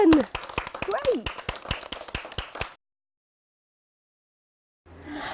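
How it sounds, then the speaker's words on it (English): Children clap rapidly in a burst of sharp, close hand claps lasting under three seconds, followed by silence and then a faint voice. "give yourselves a big clap"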